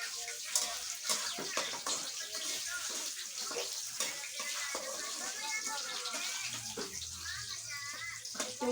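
Running tap water splashes into a sink during washing while cooking bagoong for kare-kare at home, a continuous hiss with clatter, with a child and others chatting over it.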